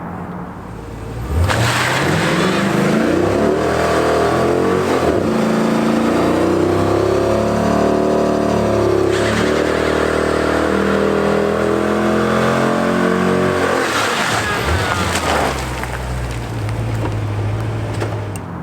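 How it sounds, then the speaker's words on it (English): A Jeep SRT doing a burnout with one wheel spinning, its engine revving loud and sustained for over a dozen seconds with wavering pitch and tire roar before easing off. "Obviously, I did a burnout."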